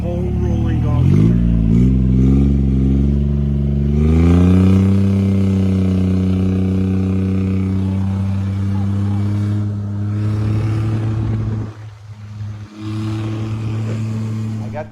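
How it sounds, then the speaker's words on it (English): A diesel golf cart drives along with a loud, close engine chug whose pitch rises as it accelerates and then holds steady, dipping briefly near the end before picking up again. "Going for a ride in a diesel golf cart."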